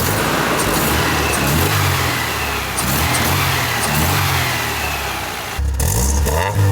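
A restored 1986 Nissan 200SX S12 running after a bump start, its mid-pitched engine revving steadily up and down close by with a cheap aftermarket muffler, a sharper blip near the end.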